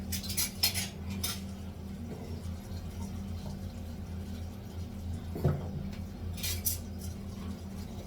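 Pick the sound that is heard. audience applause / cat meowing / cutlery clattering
cutlery clattering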